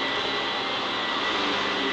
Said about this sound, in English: I apologize for the vacuum cleaner in the background